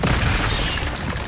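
A Bombarda spell explodes in Hogwarts Legacy, a short, loud blast of broadband crashing and rumbling debris lasting about a second, with no talk.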